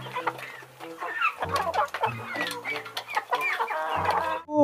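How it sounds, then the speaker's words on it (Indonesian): Rooster gives repeated clucks and short harsh crowing calls in quick irregular bursts, close and fairly loud, with no talk. "ini ayam jago"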